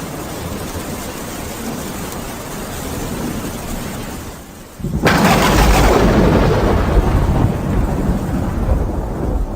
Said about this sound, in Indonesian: Sesekali kilat terlihat berkelebat disusul petir yang menggelegar.